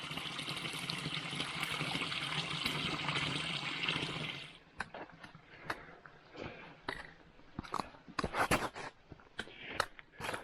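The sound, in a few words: small waterfall trickling through a rock crevasse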